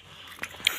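Quick bites and chewing of chocolate eaten at full speed, a couple of faint crunchy snaps in a short quiet moment.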